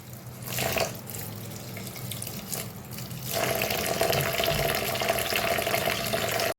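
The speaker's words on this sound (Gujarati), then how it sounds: "તો ચાલો હવે આપણે આને સરસથીને ધોઈ અને પલાળી દઈએ।" Running tap water splashing into a bowl as soaked rice and lentils are rinsed, with sloshing and swirling, then a fuller, steadier stream of water filling.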